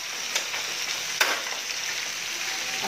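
Food fries in a pan with a loud, dense, continuous sizzle, broken by a couple of brief stirring scrapes, close up and without voices.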